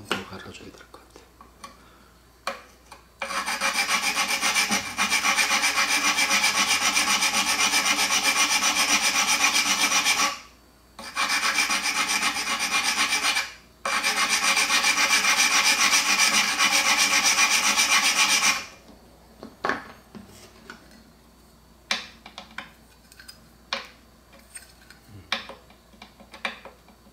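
Guitar part being ground down to cure fret buzz on the lower positions: long, steady, loud abrasive rubbing in three sustained passes, separated by brief pauses, then fading into lighter scattered scraping and taps.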